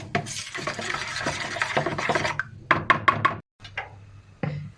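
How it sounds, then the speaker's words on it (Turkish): A utensil clinks and scrapes around a bowl of crepe batter in quick, uneven strokes, with brief pauses between bursts of stirring. "Şöyle bir karıştırıyorum tekrardan."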